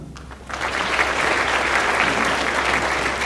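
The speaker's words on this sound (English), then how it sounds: "we will give them a round of applause at the end" An audience bursts into sustained applause for club members being introduced, a dense wash of clapping that starts abruptly and holds steady at a moderate distance.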